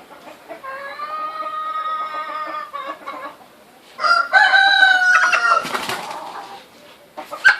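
A rooster crows loudly nearby at a village chicken coop, two long drawn-out calls in a row, with a brief pause between them and some clucking at the end.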